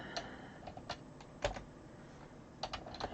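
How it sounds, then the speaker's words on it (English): Typing on a computer keyboard while entering text into an app, a quiet run of irregular key taps with a few louder clusters of keystrokes, close and alone. "so I'm just going to type here"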